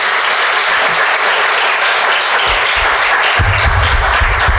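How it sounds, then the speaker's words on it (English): Guests at a fundraising dinner give a loud, sustained round of applause, with many hands clapping steadily and a low rumble of crowd noise underneath. "Would you mind giving them another round of applause?"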